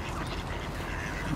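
At feeding time, a crowd of ducks and coots quacks continuously in a dense, noisy chorus, fairly close and without pauses.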